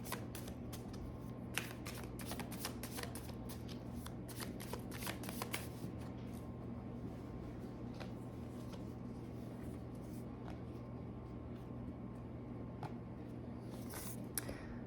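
Tarot cards being shuffled by hand, a dense flutter of riffling snaps for several seconds that then settles into quieter card handling, close and alone against a steady low hum.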